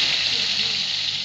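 Green chillies drop into a hot pan and sizzle steadily, a close, bright continuous frying hiss with no break, in a home kitchen.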